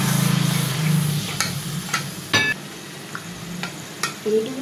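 Pangas fish pieces fry in hot oil in a pan with a soft, steady sizzle under a low hum at first. Scattered sharp ticks and clicks of cookware follow, all close and without talk.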